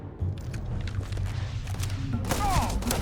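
Gunfire in the video game Starfield comes as a dense volley of booming shots and thuds under continuous game noise, loud and close, with a brief high electronic whine near the end.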